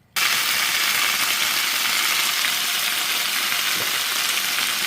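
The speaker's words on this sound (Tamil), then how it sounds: "இந்த சட்னி வதக்கிறது நான் நல்லெண்ணெயில் செய்கிறேன்" Chutney ingredients sauté in sesame oil in a home kitchen pan, a loud, steady broadband sizzle that starts abruptly and holds evenly throughout with no voices.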